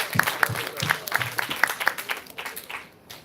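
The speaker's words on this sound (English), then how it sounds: "Give one more round of applause, please." Audience applause after a professor's presentation at a climate resilience workshop, a short burst of scattered hand claps that thins and fades out within a few seconds.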